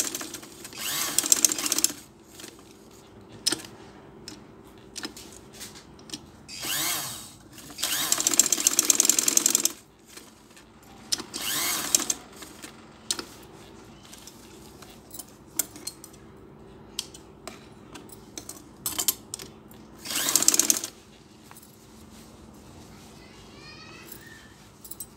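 A sewing machine stitching a doctor's coat, running in several short bursts of rapid stitching separated by pauses, loud and close, with a person speaking in between.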